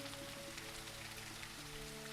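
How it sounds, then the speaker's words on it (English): Steady rain patters down across a game world in Teddy's Haven, a continuous soft hiss at even loudness with faint tonal background music underneath. "I know it's a rainy day"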